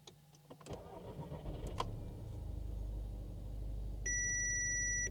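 Hot start of an Audi A3 8P engine: a short starter crank, then the engine catches and settles into a steady close idle, with a continuous two-tone warning chime sounding over it near the end.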